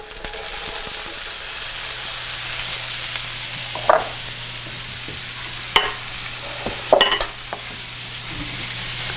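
Rinsed black beans are stirred in a hot pan as a steady sizzling hiss runs throughout, with a few louder scrapes and clacks of a spoon against the pan.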